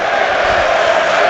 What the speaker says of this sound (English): This crowd is cooking, absolutely cooking for a goal.